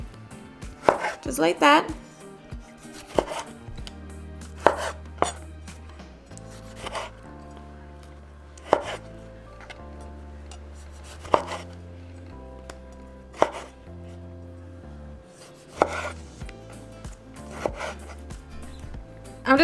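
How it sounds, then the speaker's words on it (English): A knife cuts tomatoes into wedges on a cutting board with repeated crisp chops in uneven clusters, close and clear. Quiet music plays underneath and a voice speaks briefly. "for our tomatoes, we're just going to cut them in little moons"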